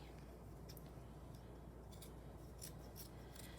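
Scissors snip out bunny ear shapes, producing a few faint, scattered cutting clicks over a quiet, steady room hum, with no talking.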